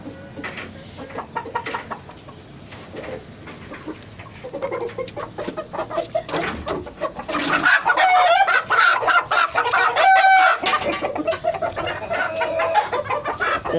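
A hen clucks repeatedly, close and loud, in an irregular series of short calls, with rustling and handling noises around it.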